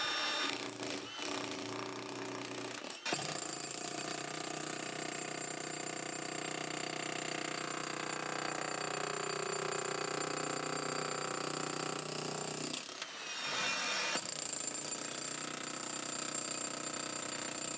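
A jackhammer with a chisel bit breaks up concrete close to a house, hammering as a loud, steady roar that stops briefly near the start and again for about a second toward the end.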